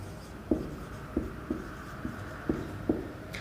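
Chalk tapping and scraping on a classroom board during a class 6 maths lesson, with about six distinct knocks at irregular intervals, fairly close and moderately quiet with no voice over them.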